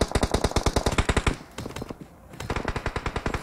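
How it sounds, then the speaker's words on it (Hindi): Rapid automatic gunfire in a PUBG match: a dense, evenly spaced burst of shots, a brief pause, then another sustained volley, loud and close. "यहाँ पे टीम नंबर 3 की तरफ से फायरिंग चली दोस्तों"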